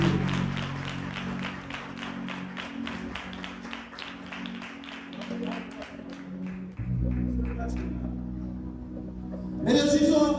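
A church congregation at a Sunday revival meeting breaks into brisk, sustained clapping under a voice, with a dense rhythmic patter that thins before a final louder burst.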